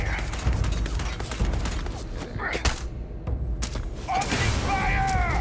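Gunfire in the sci-fi game Starfield: several broadband shot bursts and booms with mechanical clatter, fairly loud and close, with a voice talking over parts of it.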